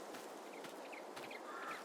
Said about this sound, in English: 30 chickens in that coop.